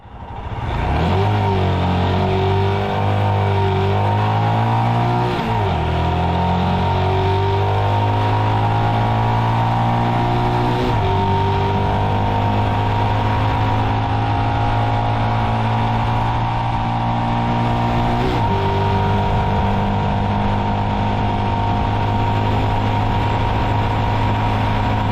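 A Royal Enfield Himalayan 411 adventure motorcycle engine runs steadily and loudly up close for the whole stretch, with a deep low thrum and a few brief revs and shifts in pitch along the way.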